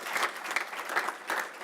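Brief burst of audience clapping at a university alumni awards ceremony, close and moderately loud, with individual claps standing out in an uneven rhythm.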